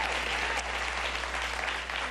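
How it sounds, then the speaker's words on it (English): Studio audience at a late-night television show clapping for a band in a dense, steady burst of applause that holds at an even level throughout. "Give them a round of applause"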